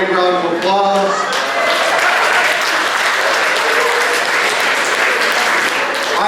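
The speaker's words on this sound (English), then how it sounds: "Give them all a big round of applause." An audience breaks into loud, sustained applause after a skit, dense clapping that fills the room; a voice speaks briefly at the very start over it.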